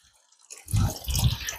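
An RO water purifier starts running: after a quiet half second, water begins splashing and trickling from the outlet in a steady, close stream with small bursts of dripping.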